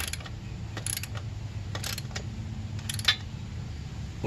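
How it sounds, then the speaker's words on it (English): A rear brake on a 1981 Yamaha XV750 motorcycle is tightened with a ratchet, giving a few faint, spaced clicking bursts over low background noise. "Okay, so now tighten this up the rest of the way."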